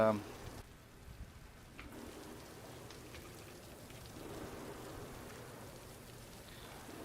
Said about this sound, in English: Oh, we get some rain going on.